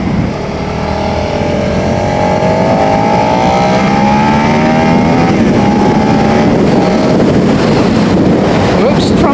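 A Suzuki SV650 motorcycle being ridden, its engine revving up through rising, climbing tones with steady wind rush at close range, loud and continuous.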